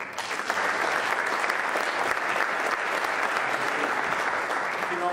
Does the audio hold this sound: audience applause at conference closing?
yes